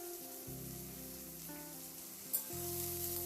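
Potatoes with a little turmeric frying in a pan, a soft steady sizzle running beneath tonal background hum, faint and close, with one brief click partway through.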